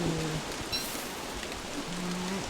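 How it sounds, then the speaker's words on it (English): Steady, even rain hiss from the Don't Starve: Shipwrecked video game runs without a break, with a few faint tonal game sounds over it. "The rain sounds are a bit loud."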